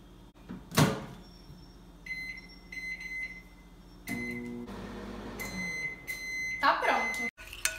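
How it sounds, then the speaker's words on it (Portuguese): A microwave oven heats a soap mix made with Orbeez, with a steady hum, a loud beep or two and a door-like clunk, and someone talking over it. "agora nós vamos colocar no micro-ondas por 1 minuto"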